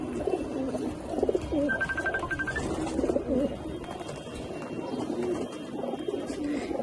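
White pigeons coo in soft, throaty repeated phrases, several birds overlapping nearby, with a brief higher chirping tone and light background noise.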